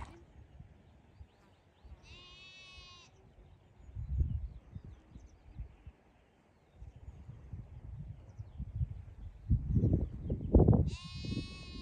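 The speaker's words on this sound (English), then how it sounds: "these are the new little lambs that are out on the farm" Young farm lambs bleat in two short quavering calls, one early and one near the end, over soft rustling and low background noise outdoors.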